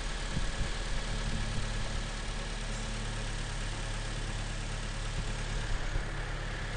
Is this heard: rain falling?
no